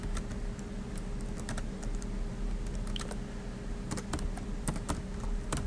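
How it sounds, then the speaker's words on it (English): Quiet, steady typing on a computer keyboard, a run of light key clicks with brief pauses and a few sharper taps, close and without any voice. "You can type text up here."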